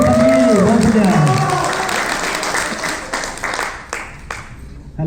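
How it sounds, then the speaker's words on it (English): Audience applause fills an annual day event hall, dense clapping with cheering voices mixed in, fading gradually toward the end. "Round of applause for Sandeep once again."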